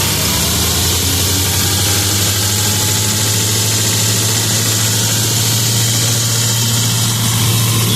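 A New Holland tractor engine held steady at 1900 rpm, running a straw-chopper machine through its pulley, gives a loud, dense, unbroken drone with a strong low hum and broad mechanical roar, close by and with no voices.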